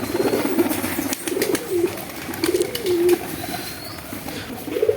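Fancy white Lakkha pigeons coo in soft, repeated rolling phrases nearby, over a faint background hiss with occasional light clicks.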